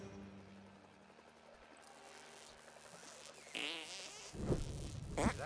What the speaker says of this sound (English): Did I just fart? Or was I just thinking about farting?